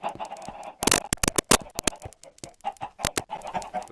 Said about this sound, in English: those are coincidental chickens.